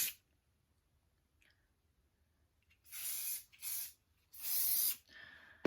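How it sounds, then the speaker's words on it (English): Hairspray from an aerosol can misted over pinned pageant curls in short hissing bursts, three quick sprays followed by a longer one, close and fairly loud after a quiet stretch. "And then spraying it,"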